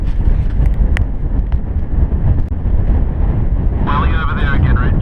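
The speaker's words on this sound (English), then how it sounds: "20 knots of wind on the nose." Strong headwind of about 20 knots buffets a sailing boat, a constant loud roar of wind rushing over the microphone with a faint whine joining near the end.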